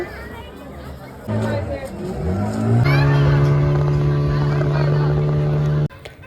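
A speedboat engine drones loudly on the Yagachi backwaters, revving up and then holding a strong steady hum before cutting off, with voices in the background.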